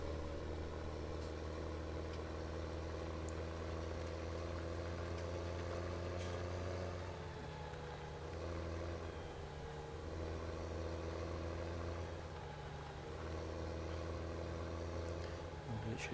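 In the farming game Farming Simulator 17, a tractor engine idles in a steady, continuous low drone that holds throughout with little change, and nobody speaks.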